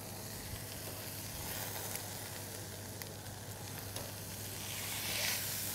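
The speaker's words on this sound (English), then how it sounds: "Let me check my meat." Meat sears in a hot pan with a steady, dense sizzle that holds for several seconds and swells slightly near the end, close and continuous with no talking.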